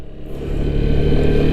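A Lifan KPR200 motorcycle being ridden in second gear, its mid-pitched engine droning steadily and building slightly in loudness, close and continuous with no talk.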